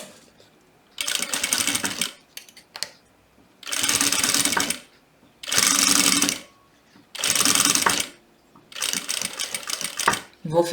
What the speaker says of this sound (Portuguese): Vou finalizar também com retrocesso, cuidando para que eu não entre muito com o pé calcador